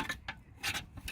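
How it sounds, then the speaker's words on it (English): Scraping strokes rasp against wax sealant on the chassis leg of a Lotus Elan SE being renovated, several rough rubbing passes at a steady back-and-forth rhythm, close and moderately loud. "I've spent a lot of the day scraping this stuff, this"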